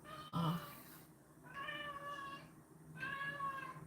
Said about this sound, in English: Oh, my cats. They're terrible.